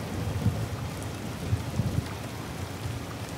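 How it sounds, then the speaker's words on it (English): A rainstorm in the Disney Dreamlight Valley video game gives a constant rain hiss over low rumbling thunder, with a few dull thuds rising out of the mix and no speech. "It is storming."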